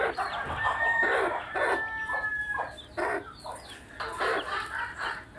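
Newly hatched Australorp chicks chirp and peep in a quick, uneven series of high, thin calls that sound close and fairly loud.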